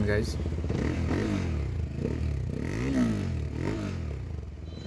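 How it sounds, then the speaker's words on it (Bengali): CF Moto motorcycle engine idling and revving through its silencer exhaust, a steady low rumble with rising and falling pitch sweeps, close by, with someone talking over it. "ইঞ্জিন সাউন্ড এবং কি হচ্ছে সাইলেন্সারের সাউন্ড খুব একটা ব্যাড না"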